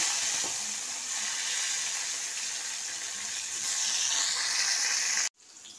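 Three green chillies and a tomato dropped into hot oil tempered with nigella and radhuni seeds, giving a steady, close, bright sizzle that carries on evenly before cutting off abruptly.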